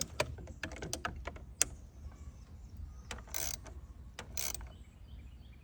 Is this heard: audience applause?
no